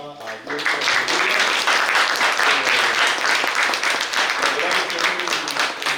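An audience at a panel discussion gives a round of applause for a participant, brisk and dense clapping that starts after a brief voice and holds steady throughout.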